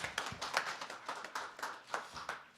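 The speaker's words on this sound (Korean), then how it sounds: "자 여러분 박수로 환영해 주십시오." A small seminar audience claps to welcome a panel speaker, a modest, uneven patter of hands, fairly quiet and close, with no speech over it.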